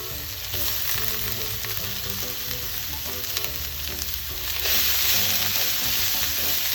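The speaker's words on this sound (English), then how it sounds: "we are going to throw in our kale stems" Kale stems hit hot oil already blooming with red pepper flakes, giving a steady close sizzle and crackle that swells louder near the end, with no voices.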